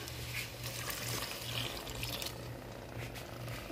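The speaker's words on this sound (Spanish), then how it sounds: "le vamos a echar un poquito de agua" Water is poured from a tap or container into mashed potato as it is being prepared, making a steady, soft, close-up trickling splash that runs for a few seconds with no talk over it.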